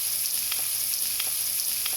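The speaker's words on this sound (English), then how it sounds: "get the sausage and the bacon and all that sort of stuff fried up" Sausages and bacon fry in a pan with a continuous, dense, hissing sizzle that pops gently at regular moments, close and even throughout, with no talking.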